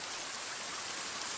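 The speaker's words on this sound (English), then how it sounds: "It's dark and raining outside." Rain falling at night in the survival game The Forest, a soft, steady, even hiss of drops throughout, faint and without voices.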